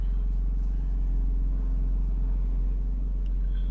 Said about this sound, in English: let's listen to the exhaust from outside the car